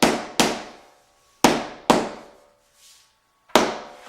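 Sharp, loud bangs as vinyl plank flooring is knocked into place during a DIY installation, five separate impacts with ringing decays and short pauses between, no talk.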